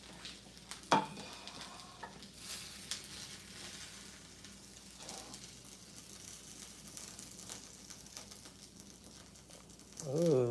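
Plantains frying in a hot pan give a soft, steady sizzle with occasional clinks and stirring scrapes, faint and close, with a louder burst at the end.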